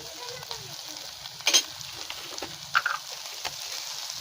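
Sea urchin sautéed briefly in a pan with onions, a soft continuous sizzle broken by a few sharp clicks of a utensil against the pan.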